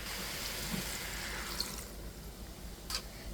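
Water poured into a pan of pumpkin greens cooking in a little oil, a soft, steady faint trickle with a couple of brief clinks, no voices.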